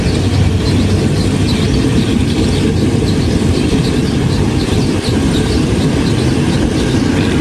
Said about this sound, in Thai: ชมบรรยากาศการเดินทางนะฮะ ด้วยรถไฟท้องถิ่นนะฮะ